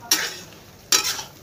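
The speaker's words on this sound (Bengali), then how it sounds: "পটল আলুটাকে এটার মধ্যে দিলাম, দিয়ে ভালো করে কষাবো।" Pointed gourd and potato chunks being sautéed in a pan, with two close, loud bursts of stirring and scraping over a soft background sizzle, and no talking.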